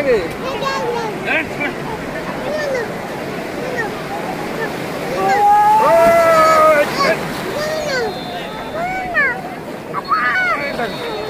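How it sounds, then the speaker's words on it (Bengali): Sea surf rolling onto the beach at Cox's Bazar, a steady broad wash of breaking waves with wind on the microphone, one surge swelling louder midway, while people talk and call out over it. "দেখো কত বড় ঢেউ আসছে"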